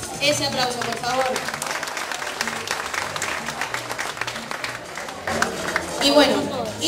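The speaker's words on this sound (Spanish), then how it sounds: "Ese aplauso, por favor." An audience at the San Isidro 2012 festival prize-giving in Arguayo claps through an award presentation, steady applause under music-like tones and a swell of clapping near the end.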